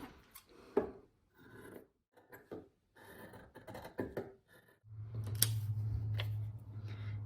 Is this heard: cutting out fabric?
yes